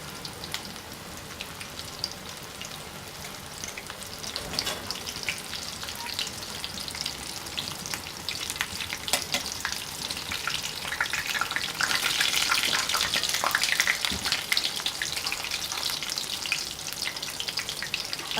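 Chicken toast pieces frying in oil over low-medium heat give a steady, dense sizzle throughout, growing slightly louder and busier toward the middle and end, with no talking.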